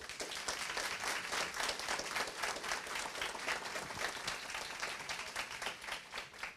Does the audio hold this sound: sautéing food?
no